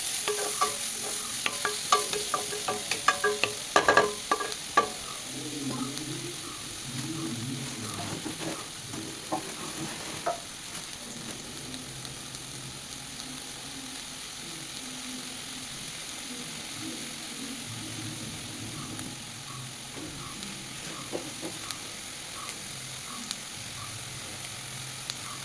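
Onions sautéing in oil in a pan for chicken kurma, a quiet, steady frying hiss with a few louder stirring scrapes early on, then mostly even low sizzle, no voices.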